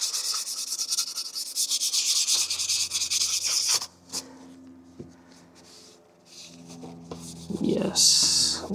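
Wet sanding of a UV-resin 3D print produces steady, close abrasive rubbing for about four seconds, then quieter scattered scrapes and handling noises, with a brief loud hissing burst near the end.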